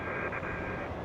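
Boeing 777 landing at Los Angeles International Airport, a steady broadband jet roar held at an even, moderate level through the brief moment with no pause or talk.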